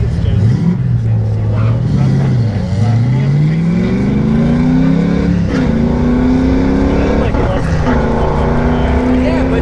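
A Chevy drag car making a run down a drag strip: a loud, close engine roar that climbs and shifts in pitch through the gears, continuous from start to finish.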